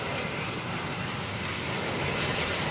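A British Airways Boeing 777 jet airliner lands at Heathrow in blustery wind, its engines a loud, continuous roar heard from nearby with no one speaking.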